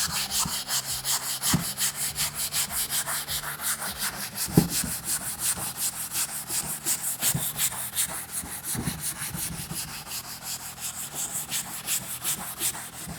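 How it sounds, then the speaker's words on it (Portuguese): Old varnished wood being hand sanded with a flexible abrasive sponge during furniture restoration, close rhythmic rubbing strokes repeating steadily with occasional light knocks, no talking. "com essa aqui, ó, essa esponjinha que permite todo esse movimento aqui, você consegue abraçar a madeira e fazer o lixamento todo"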